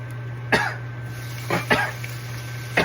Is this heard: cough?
yes